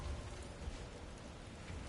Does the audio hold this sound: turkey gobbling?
no